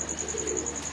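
Pigeon cooing low and steady on a rooftop loft, a soft continuous murmur with a faint high electrical whine over it and no talk.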